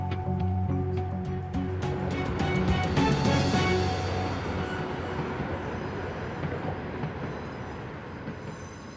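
A train running over newly repaired track at Kings Cross, rolling past with rhythmic wheel clatter and squealing rail noise, loud at first and gradually fading as it moves on.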